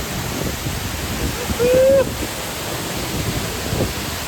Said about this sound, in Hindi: ये देखो गाइस, ये देखो जूजर वाटरफॉल